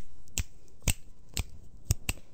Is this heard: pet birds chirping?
no